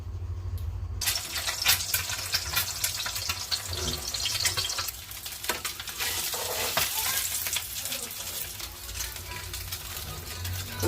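Luncheon meat and eggs fry in a pan, a steady broadband sizzle with scattered crackles and occasional clinks and stirring, alongside some running water nearby, with no voices.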